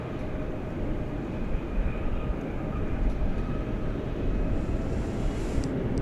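A jet airliner takes off from Dallas/Fort Worth International Airport, a steady broad roar of engines rumbling loud and constant at a distance, with a faint high whine over it.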